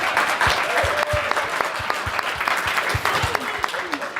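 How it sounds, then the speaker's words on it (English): A roomful of teenagers at an evening worship retreat claps steadily for someone who decorated a shoebox, the applause broad and sustained for several seconds with faint voices mixed in. "Can we just give her a round of applause for a moment?"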